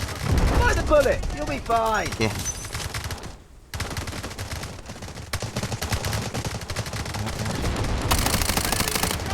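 In the video game Delta Force, rapid gunfire crackles in dense bursts and volleys, nearly continuous apart from one brief pause, with someone talking over the shooting at the start.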